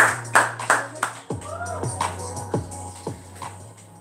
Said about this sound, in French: on peut venir s'applaudir